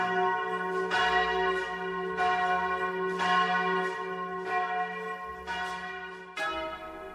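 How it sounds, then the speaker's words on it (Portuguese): Church bells at Braga Cathedral ring out in slow, regular strikes, their tones overlapping and sustaining, steady and resonant with no voices. "o som dos sinos ecoasse pela cidade"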